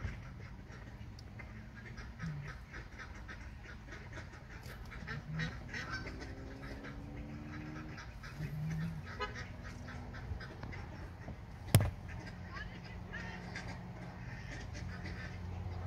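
Ducks quack in a group on a lake, a steady chorus of calls under a constant outdoor background, with one sharp louder sound near the end.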